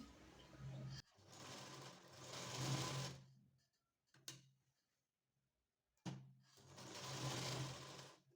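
A sewing machine runs double stitching on a belt blouse in three bursts of steady, rapid whirring: a brief run, a longer run of about two seconds, a quiet pause with a short tap, then another sustained run.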